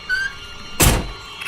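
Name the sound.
truck door closing, radio drama sound effect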